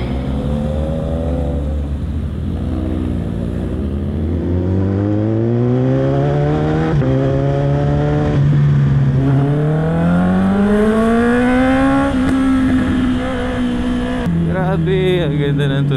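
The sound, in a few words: Honda CB650R motorcycle engine riding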